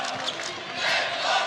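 French crowd at a EuroBasket 2017 basketball game between Poland and France, a diffuse roar of cheering swelling in the arena with faint ball bounces and commentary underneath.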